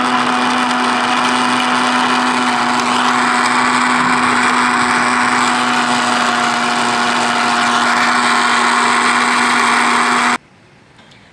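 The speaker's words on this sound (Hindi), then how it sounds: "ये जो उसका गुद्दा था, जो उसके छिलके थे, उसको हमने ब्लेंडर में डाल दिया है। हम इसे ब्लेंड करेंगे।" A kitchen blender whirs through fresh plum pulp and peels for plum sharbat, a loud, constant motor drone with a steady hum that runs unbroken for about ten seconds before cutting off abruptly.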